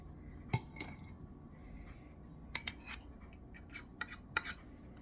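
Fork scraping and clinking against a bowl while softened cream cheese is mixed, sharp metallic taps and clicks scattered irregularly, quiet and close with no talking.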